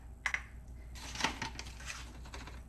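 Starch and sugar stirred together in a bowl for pastry cream, giving a few light clinks and scrapes, brief and close, with no talking.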